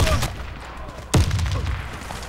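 A couple of sharp USAS-12 shotgun blasts in the video game Warface crack out on the Oil Depot map, one near the start and a louder one midway, over a dense background rumble.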